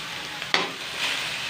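Onion, garlic and ginger hit hot oil in a pan for pork adobo, giving a soft steady sizzle with one sharp crackling pop partway through, faint and close, no talking.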